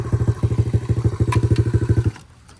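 A dirt bike engine idles and revs with a fast, even pulsing putter, loud and close, cutting out abruptly near the end, with a little clatter in the background.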